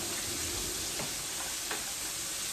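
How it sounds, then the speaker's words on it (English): Steady, quiet sizzling of chicken wings frying in a pan, a continuous hiss with faint pops and no voices. "The chicken frying."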